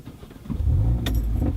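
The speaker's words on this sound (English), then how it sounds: "I'm now just going to try and start the car." A Mercedes A45 AMG fitted with an immobiliser cranks and catches into a loud low engine rumble, preceded by a short bright rattle like keys, close up and without talk.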